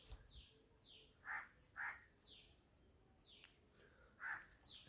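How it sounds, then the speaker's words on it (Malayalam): Crow caws ring out in short separate bursts, three clear calls near the middle and end, over a quiet outdoor background with faint chirping birds. "ഇവിടെ നിൽക്കുന്ന നേരത്തിൽ ഇവിടെ കാക്ക വന്നിങ്ങനെ കരയുന്നുണ്ട്."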